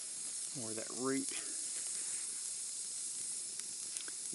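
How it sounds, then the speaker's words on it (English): Wet wood sizzles and hisses in a campfire as a steady faint hiss, with a brief chirping burst near the start, heard close but quiet. "You can hear that sizzling because some of that wood is certainly still wet."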